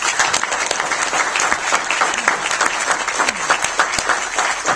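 Sustained audience applause at a civil rights movement observance honoring Mrs. Parks, steady dense clapping from a large crowd filling the whole stretch without pause.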